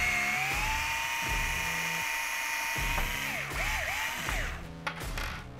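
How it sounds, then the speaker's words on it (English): A power hex driver removing a shock screw on an ARRMA Kraton 8S RC truck gives a steady, close motor whine. Its pitch then dips and wavers in short spurts as the screw comes free and the tool stops. "To remove your shock absorbers, you need a 3mm hex driver."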